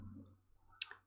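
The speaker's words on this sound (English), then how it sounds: "Right click on the leaves 1 material" A mouse right-click on a computer: one sharp, close click after a short stretch of low background hum, alone with no voice.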